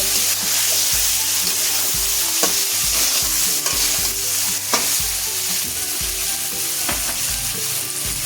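Mushrooms seasoned with salt and turmeric are stirred in a hot pan: loud, continuous frying sizzle with rhythmic scraping strokes of the spatula, close and alone.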